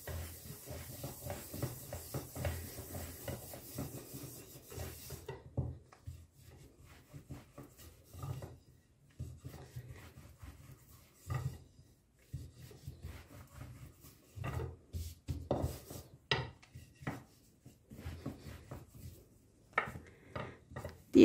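Baklava dough sheet dusted with starch being rolled out with a rolling pin on a wooden surface, giving repeated soft rubbing, rasping strokes in uneven bursts with brief pauses, close and fairly quiet.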